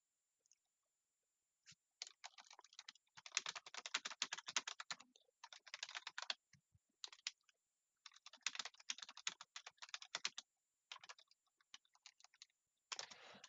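Quick, hard bursts of typing on a computer keyboard, clustered clacks in uneven flurries separated by short pauses, close and clear with no talking.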